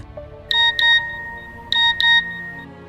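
Mobile phone text message alert plays two quick pairs of bright electronic chime tones, separated by a short pause, clear and close with no voices.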